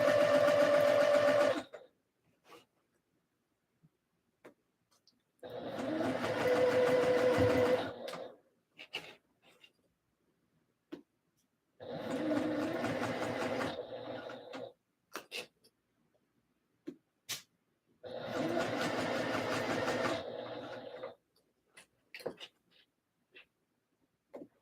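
A home sewing machine stitches a skort in four separate runs of steady whirring, each a few seconds long, separated by quiet pauses with small clicks and handling noises.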